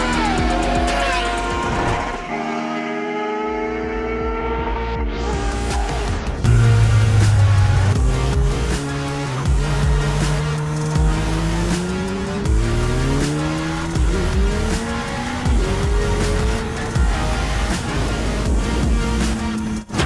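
A 2003 Yamaha YZF R1 sport motorcycle accelerating hard on a road, its engine climbing through repeated rising revs and gear changes, loud and close with wind noise.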